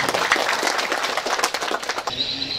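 Dense clapping from a crowd gathered for the inauguration of a village people's market, steady for about two seconds and then dropping away abruptly, leaving faint background noise.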